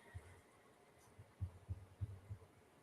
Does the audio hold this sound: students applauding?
no